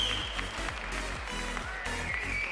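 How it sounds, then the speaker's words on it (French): Applause at a Tarentaise cattle show, steady crowd clapping heard briefly over a loud continuous background with rhythmic low thumps and a faint high tone. "Vous pouvez les applaudir bien fort"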